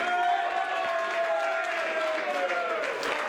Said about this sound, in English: Round of applause, please. Simon Fitzsimmons.